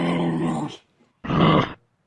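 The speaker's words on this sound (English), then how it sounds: "First up is the kangaroo, which sounds like this." A kangaroo call, heard as two rough, growling bursts close by, each under a second long, with a short silence between them and no talking.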